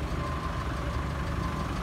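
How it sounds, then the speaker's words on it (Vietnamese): A 2004 Ford Transit van's engine idles smoothly and steadily at close range, a low continuous hum with no voices over it. "Máy nổ rất là êm luôn nhá."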